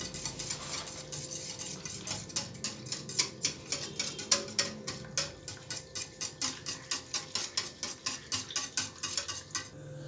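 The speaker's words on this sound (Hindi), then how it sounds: "1 किलो दही के अंदर ये जो हमने आधी प्याली बेसन लिया है इसको मिक्स कर देंगे" Spoon stirring half a cup of gram flour into a kilo of yogurt for kadhi, a steady rhythmic clinking and scraping against the bowl repeated many times, close and fairly quiet with no talk.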